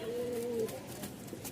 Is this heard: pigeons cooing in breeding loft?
yes